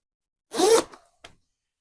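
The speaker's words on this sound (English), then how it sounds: "you can bring that zipper right on up." A two-way YKK zipper on a rain jacket is pulled up in one quick, close rasp, followed by a short faint tail and a brief small second tick.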